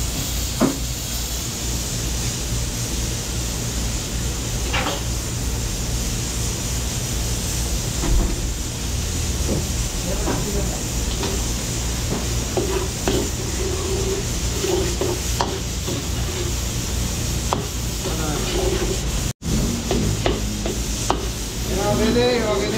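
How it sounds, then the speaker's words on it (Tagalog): Garlic and onion sautéing in butter in a catering kitchen, a continuous loud sizzle with scraping and stirring clatter throughout, and a brief dropout near the end. "So butter, gigisa natin sa butter mga beli."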